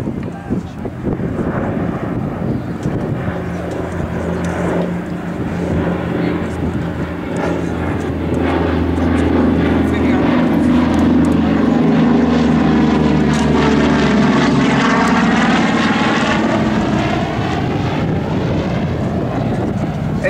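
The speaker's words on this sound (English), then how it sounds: "The next pass by the C-47 Yankee Doodle Dandy." A World War II C-47 Skytrain named Yankee Doodle Dandy makes a photo pass in a slight left bank, its piston propeller engines droning loud and steady as it nears and passes, with wind buffeting the microphone and a commentator talking over it.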